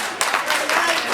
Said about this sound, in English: This crowd loves Parker Tomas.